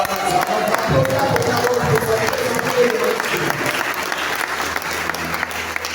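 A church congregation at a worship service breaks into applause, a thick continuous crowd clapping held for several seconds while voices call out over it.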